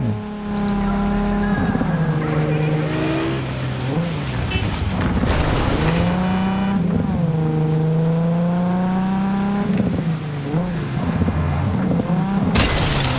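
A car being driven in the video game Cyberpunk 2077, its engine a steady drone rising and falling in pitch with revving, loud and continuous throughout, with a brief tire-like screech near the end.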